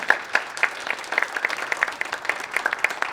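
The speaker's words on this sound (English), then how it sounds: "You can give them your applause at this time." A forum audience gives a short round of scattered applause for the Adams County Sheriff candidates, individual claps fairly distinct and moderately loud for a few seconds.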